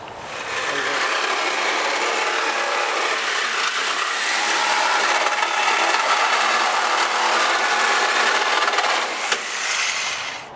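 A power tool cuts through a vehicle's tube fender, a loud, continuous, harsh grinding roar that runs for nearly the whole stretch before tapering off at the end, with no talking.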